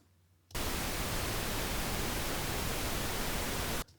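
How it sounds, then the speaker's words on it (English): Steady pink noise played through a studio EQ set to a band-pass filter, switching on abruptly and holding loud, dense and unchanging for about three seconds before cutting off. "we basically hear the pink noise as the pink noise we know"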